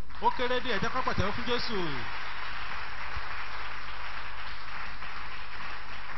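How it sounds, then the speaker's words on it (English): A church congregation at a thanksgiving service breaks into dense applause for Jesus, a sustained wash of many hands clapping that carries on after a voice speaks briefly over its start. "Let us clap for Jesus."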